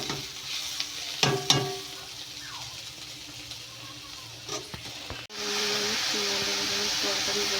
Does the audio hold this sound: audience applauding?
no